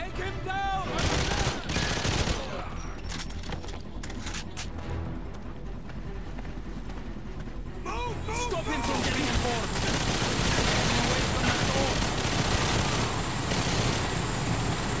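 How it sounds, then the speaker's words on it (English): Rapid automatic gunfire rattles almost nonstop through a chaotic free-for-all shootout in GoldenEye 007 Reloaded on PS3, with game effects and a vehicle-like rumble mixed in and a voice speaking briefly over the action. "This is pretty much a free-for-all shoot."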